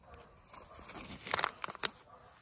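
A plastic bag of copper hydroxide powder is torn open by hand, a short ripping and crinkling burst of a few sharp tears close by, preceded by faint rustling handling, with no voices.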